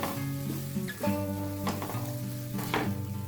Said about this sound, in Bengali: 5 মিনিট ঢেকে রাখার পর আবার একটু ভেজে নিচ্ছি।